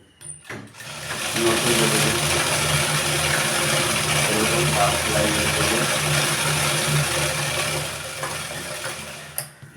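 Sewing machine stitching a round seam on small baby pants, a steady continuous mechanical whir running for most of the clip, close and fairly loud, starting and stopping at the ends.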